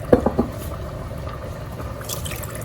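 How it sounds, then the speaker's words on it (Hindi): Water is poured into a cooking pot for halwa puri chana, a few sharp splashes up front settling into a steady soft trickle and running hiss, close by. "और मैं अभी 3 कप पानी का ऐड करूँगी।"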